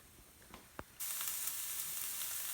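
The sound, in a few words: celery and carrots sizzling in a hot pan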